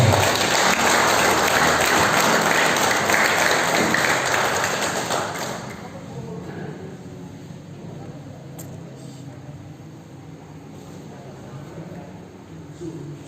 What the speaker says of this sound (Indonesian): Kita sambut dengan tepuk tangan yang meriah, Bapak Irianto